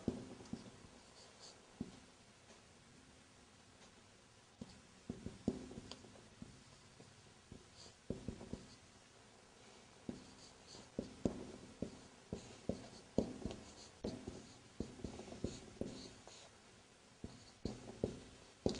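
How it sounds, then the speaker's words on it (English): Marker or chalk writing on a classroom board during an Arabic lesson, heard as faint, irregular scratches and taps coming in short bursts, with quiet gaps between strokes. "I'll write down."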